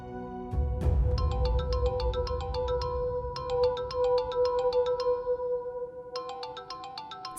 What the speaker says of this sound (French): Décroche le téléphone.